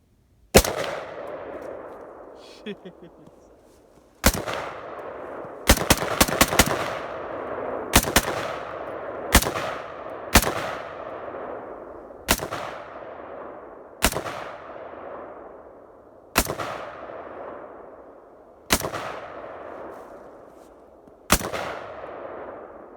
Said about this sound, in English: What I'm about to show you is the actual video that I took of him shooting that rifle in our front yard.